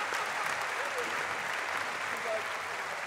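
Continuous audience applause rolls through a TV show studio celebrating the first-place synchronized divers, steady and moderately quiet, with a faint voice or two underneath.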